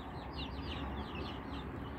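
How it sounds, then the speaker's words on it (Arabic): Arab breed chickens clucking in a busy coop, their soft calls running together in a steady, fairly loud stream with no talk over them. "دجاج عرب."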